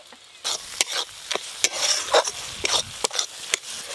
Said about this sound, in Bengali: সব মশলা একবারে ভালো করে কষা হয়ে গেছে